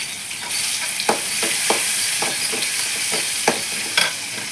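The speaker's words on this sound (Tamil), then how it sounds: "வெங்காயத்தை போடுவேன்." Onions fry in hot oil in a pan for rava kichdi, giving a continuous close sizzle broken by a few sharp spatula scrapes and taps, with no voices.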